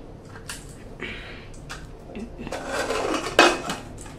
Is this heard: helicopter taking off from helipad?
no